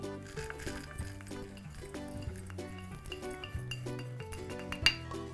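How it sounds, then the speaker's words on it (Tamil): Ingredients are scraped and tipped into a mixer grinder jar, producing close, faint clinks and metallic scrapes of a spoon against the vessel in a quick irregular series. "ஓகே, இதை மிக்சி ஜாரில் மாற்றிடுறோம்."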